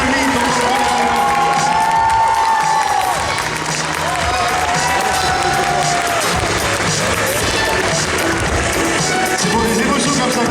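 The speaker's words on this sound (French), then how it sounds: "On applaudit Ginia." A convention crowd at a cosplay contest award ceremony claps and cheers loudly and steadily, with whoops and raised voices mixed into the sustained applause throughout.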